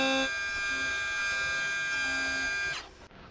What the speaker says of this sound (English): I'm just milling the bevels on the end of the bar here.